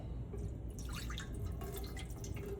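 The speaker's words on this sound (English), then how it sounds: "Pour water in 8-quart pan." Water pours into an 8-quart pan on a kitchen stove, a close, continuous splashing and trickling stream that shifts slightly in pitch as the pan fills.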